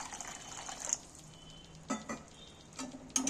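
Water splashes into a pan of spiced chicken whose masala has been fried until the oil separates, with a soft, steady sizzle and a few brief stirring scrapes and bursts, quiet and close.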